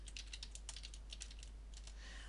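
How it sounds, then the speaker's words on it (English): Fingers type on a computer keyboard, a quick run of light, close clicky keystrokes in an irregular rhythm against a faint steady hum. "Now, if I start typing,"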